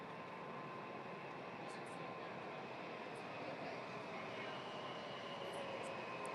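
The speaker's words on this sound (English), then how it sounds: "new train coming in, DuPont Circle down to Shady Grove" A Washington Metro train pulls into a station, a faint, steady broadband rumble of the approaching cars with occasional soft high chimes or squeaks over it.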